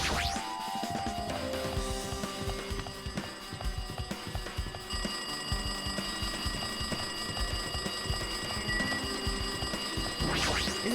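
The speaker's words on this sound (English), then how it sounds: "It looks like that phone is ringing." A telephone rings repeatedly in the video game Danganronpa 2, a steady electronic trill that stays loud and continuous for the whole stretch, with no voices over it.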